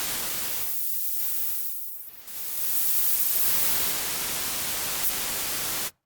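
Synthesized noise for an EDM/synthpop riser, a harsh hissing static wash whose filter sweeps change its tone, with brief dips and a sudden cut at the end, loud and alone.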